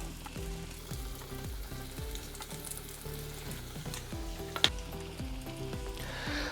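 Steady, dense sizzle of a bird's nest snack, a Malabar evening snack, deep frying in hot oil, continuous and close, over faint background music, with one brief clink.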